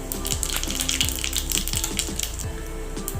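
Whole cumin seeds sizzling in hot oil for tempering dhokla, just after mustard seeds: a dense, continuous close sizzle with bright hissing and a few light pops.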